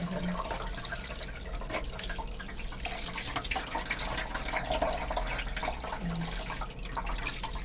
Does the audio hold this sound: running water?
yes